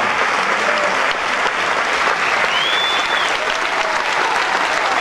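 An audience applauding the Navigator ship's crew, a dense, steady wash of clapping that stays loud and even for the whole stretch, with a faint whistle or cheer rising through it.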